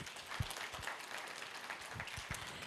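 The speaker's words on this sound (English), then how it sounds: "please give him a big round of applause" Audience applause at a corporate event fills the clip as continuous, close clapping from a crowd with a few sharper individual claps standing out.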